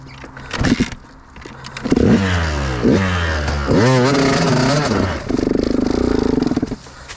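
A KTM enduro motorcycle revs hard on a rough off-road trail, its engine climbing in rising, sweeping bursts, then holding a steady high buzz, close and loud with brief clatter between throttle pulls.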